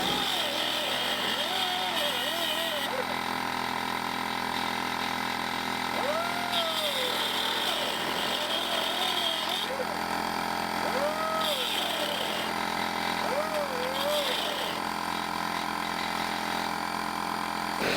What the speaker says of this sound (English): you can hear the compressor and the tool wind down